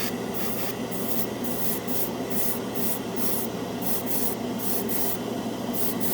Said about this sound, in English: I'm spraying this directly over the spoon. No primer at all.